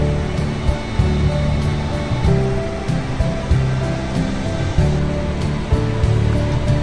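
A steady rushing roar of water falling about 70 feet at Upper Falls on the Genesee River, Letchworth State Park, fills the whole clip, dense and continuous, with no voices.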